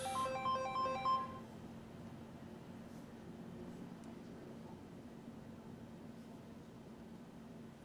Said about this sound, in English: I muted my cell phone.